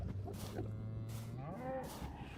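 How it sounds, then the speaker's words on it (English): A cow in a video game gives one long, low, drawn-out moo that bends upward near the end. It is moderately quiet and heard alone. "I think I got the cow again."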